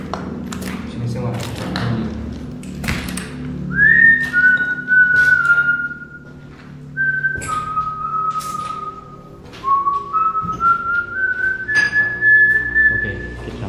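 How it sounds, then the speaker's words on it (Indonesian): A person whistles long, sustained tones in several separate stretches to lure a ghost, close and clear, between taps and thuds, with people talking quietly in the background. "kita mancing dengan siulan"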